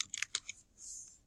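Brief burst of computer keyboard typing, a handful of quick close clicks in an uneven rhythm, followed by a softer hiss.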